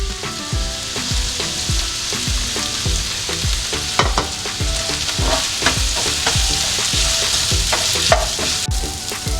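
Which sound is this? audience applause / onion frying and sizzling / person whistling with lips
onion frying and sizzling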